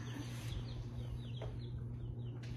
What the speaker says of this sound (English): Look at your baby chicks.